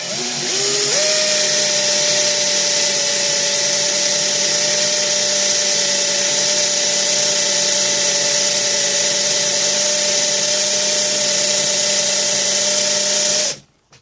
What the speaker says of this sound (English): you can get good wood drill bits